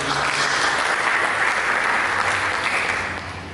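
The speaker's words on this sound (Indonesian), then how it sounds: "Mari kita berikan tepuk tangan bagi Yesus" A church congregation applauds after a sermon, and the clapping spreads through the hall as a steady, full wash of many hands that fades slightly at the end.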